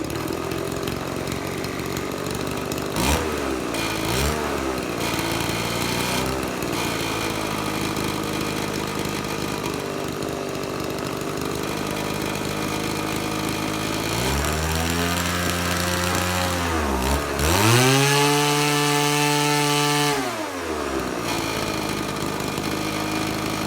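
Engine of an RC car project fitted with a 13x6 propeller, running steadily and loud throughout, with a buzzing drone that rises and falls in pitch as the throttle is revved up and back down several times; no talking.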